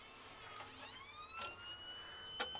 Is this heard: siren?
yes